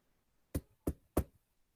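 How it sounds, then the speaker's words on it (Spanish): Three firm knocks on a closed door, evenly spaced and close, quiet but distinct against silence, with no talking. "yo toco la puerta"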